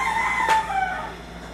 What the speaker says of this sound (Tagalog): Ba't may manok?